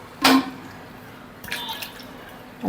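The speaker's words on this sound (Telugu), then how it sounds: "ఇలాంటి గిన్నెలో కొద్దిగా వాటర్ వేసి" Water splashes briefly into a bowl, followed by a few lighter trickles and drips nearby in an otherwise quiet room.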